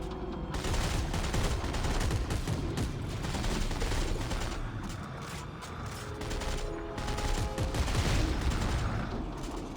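Dense, muffled gunfire and mechanical clatter in the survival horror game Dead Space 3, a continuous churning barrage layered with grinding machinery noise at moderate loudness throughout.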